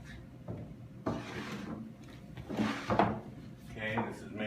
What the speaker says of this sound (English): So now we'll get the drawers. They're just gonna slide in right here